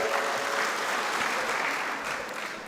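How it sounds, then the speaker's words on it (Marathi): An audience at a BJP party workers' meeting in Malshiras taluka claps in sustained, dense applause that stays steady and fairly loud throughout, easing slightly toward the end. "सगळ्यांनी टाळ्या वाजून त्यांचं अभिनंदन करायचं आहे"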